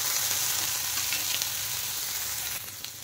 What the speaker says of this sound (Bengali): পেঁয়াজ এখন একটু হালকা ভেজে নেব